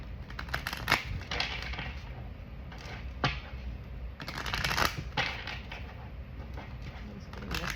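A deck of tarot cards is shuffled in soft, papery riffles and rustles that come in a few bursts, close and fairly quiet, with no voices.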